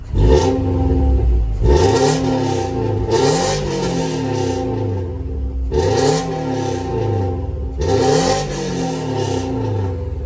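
A non-turbo Subaru with an aftermarket catback exhaust revs again and again, each loud, close blip rising and falling in a repeating rhythm. A thin, tinny rasp sits over the engine note.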